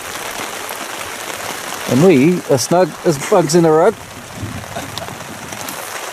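Heavy rain falls on a tarp shelter at a wet camp on the Clarence Lagoon to Lake Ada walk, making a steady, close, dense hiss throughout while someone speaks briefly over it.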